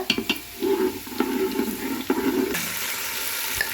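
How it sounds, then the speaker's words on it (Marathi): Finely chopped onion fries in oil in a pan, giving a close sizzle broken by stirring scrapes in the first half, then settling into a louder, steady hiss. "आता तेलात कांदा भाजा लागलो बघा बारीक असा चिरलाय कांदा चांगला भाजूया लाल होऊपर्यंत"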